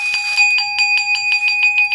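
A ritual bell in a Buddhist soul-calling ceremony is struck repeatedly in a steady, quickening rhythm, each bright metallic ring sustaining clear tones, close and loud with no voices.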